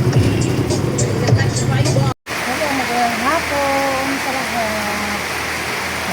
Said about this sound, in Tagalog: Guys, ang batas ng ulan.